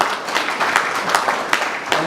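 A small group claps loosely and unevenly at a marketing seminar, scattered moderate hand claps with a few sharper hits standing out over a couple of seconds.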